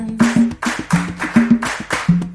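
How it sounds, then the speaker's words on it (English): Kindergarten children clapping their hands in a steady rhythm at a Mother's Day school assembly, a group of sharp claps under a voice or melodic tone. "If you love your mommy, clap your hands."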